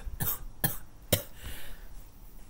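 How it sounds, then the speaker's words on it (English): Three or four short, sharp coughs from one person, close and fairly quiet, spaced about half a second apart in an otherwise quiet room. "Coughing is not an answer to this."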